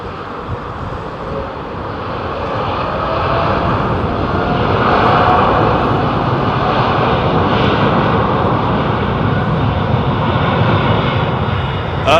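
A Boeing 787 Dreamliner jet rolls and climbs on takeoff at London Heathrow Airport, its engine roar building into a loud, steady broadband rumble that swells toward the middle and holds, with no talking.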